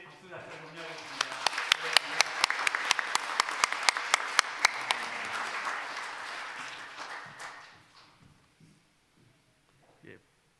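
A church congregation at a retirement thanksgiving service breaks into sustained, moderately distant clapping that swells for several seconds and then fades out, followed by a few faint sounds.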